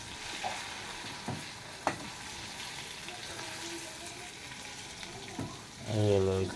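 Cauliflower fritters fry in hot oil with a steady bubbling sizzle broken by a few sharp clicks and pops. A brief low rumble rises at the end, and nobody speaks.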